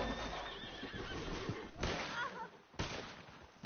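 In a video game, a horse neighs and whinnies loudly over a gritty, noisy soundscape, joined by sharp cracks like gunfire or a whip and faint hoof clops, with no talk during the clip.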